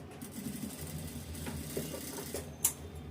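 A sewing machine runs a straight seam on a blouse, a low steady mechanical whir with faint ticking, fairly quiet and continuous throughout with a brief sharp click near the end.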